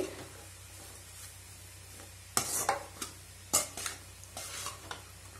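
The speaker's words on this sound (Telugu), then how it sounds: "ఇందులోకి సన్నగా కట్ చేసి పెట్టుకున్న కొత్తిమీరతో గార్నిష్ చేసుకొని మరోసారి కలుపుకోండి" Veg chow mein noodles with coriander tossed in a pan, a low sizzle under several sharp metallic scrapes and clatters of a spatula against the pan, close and alone.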